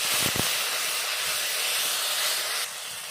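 Ginger paste, cumin and two dried chillies frying in a pan for a rui fish curry with taro hiss and sizzle loudly as water hits them, with a brief pop near the start and a steady steam roar that drops slightly at the end.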